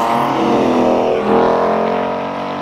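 A Ford Mustang race car drives past on the Modlin circuit, its loud, close engine roar swelling as it goes by and then easing away over a couple of seconds.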